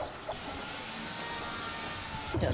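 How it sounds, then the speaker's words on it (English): A rooster and hens cluck softly in rural Nong Khiaw, Laos, against steady outdoor background noise, with a few brief louder clucks near the end. "Another cockerel with its family."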